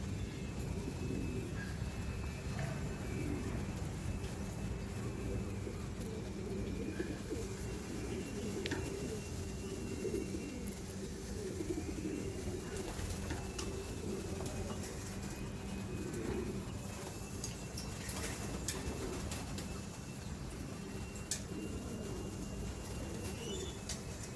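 Racing pigeons cooing in a loft in Thailand, a steady, continuous low murmur of overlapping coos that runs throughout over a constant background noise.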